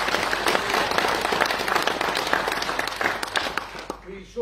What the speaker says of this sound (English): let's give a big round of applause to the council.